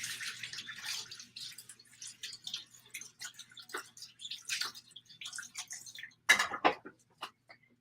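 Tap water runs while rubber gloves are rinsed at a sink, heard as uneven splashing bursts and drips at close range with a louder gush near the end.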